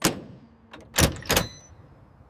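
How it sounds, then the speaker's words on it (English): Truck cargo doors at a loading dock slam shut in two sharp, close impacts after a lighter knock, with a quiet background between. "Cargo doors are closed and verified."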